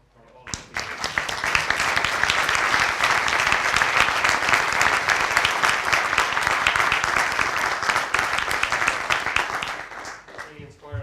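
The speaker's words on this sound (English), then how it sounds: "I'd like a round of applause for all of the speakers." An audience at a talk event on architecture and engineering in space gives the speakers a long round of applause, rising quickly to full, dense clapping that holds for about nine seconds before tapering off, with some voices mixed in.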